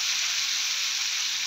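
Onions frying together with other ingredients in a pan on a small stove, a loud, dense, even hiss of sizzling oil held steady and close throughout.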